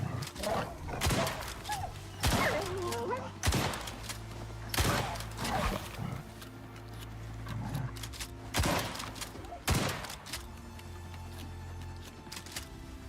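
Repeated gunfire in the survival game Icarus, a handful of loud sharp shots spaced a second or two apart over a steady low rumble, with a bear nearby in the game world.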